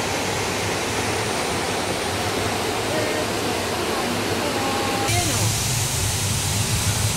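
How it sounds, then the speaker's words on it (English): Concord waterfall in Grenada roars as a broad, steady rush of falling water, loud and continuous throughout, with a slight change in texture near the end. "Concord waterfall."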